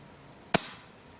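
A single sharp shot from a Pinty P-Force bullpup air rifle, a crisp close crack with a short fading tail, alone in a quiet room.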